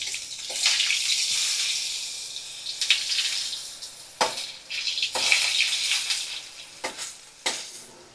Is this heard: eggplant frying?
yes